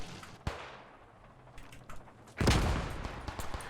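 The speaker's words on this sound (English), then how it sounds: "There's a lot of rifle fire here." Rifle fire rings out on the Carentan map of the World War II shooter Post Scriptum. A sharp single shot comes first, then sparse distant cracks, and a loud sustained burst of gunfire near the end.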